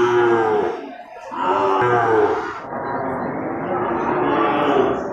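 Cattle in a pen at a livestock market low and moo loudly, several long overlapping bellows one after another, close and dominant with a busy crowded background.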